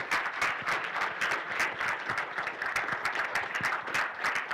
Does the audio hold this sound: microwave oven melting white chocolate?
no